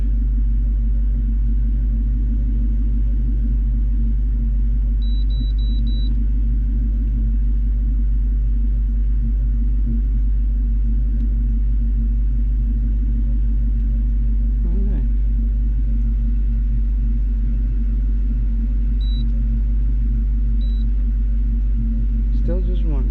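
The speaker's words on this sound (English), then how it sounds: "Let's see if it's any different with the car on." A car engine idles steadily in the background, a constant low rumble with a strong hum, while the car is checked for a service engine soon light, with occasional faint beeps over it.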